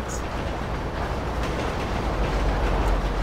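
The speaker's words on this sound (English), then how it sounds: "this train is closing on me" A train in Grand Theft Auto rumbles steadily close by, a loud continuous roar of rolling wheels and engine noise, with someone talking over it.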